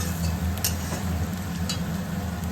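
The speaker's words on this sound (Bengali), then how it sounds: "পেঁয়াজ ভাজা হয়ে গেছে আমার, এই দেখুন পেঁয়াজ ভাজা হয়ে গেছে।" Onions fry in a pan, browning to a reddish colour, giving a steady, even sizzle with a low background hum and a couple of faint clinks, continuous for the whole stretch.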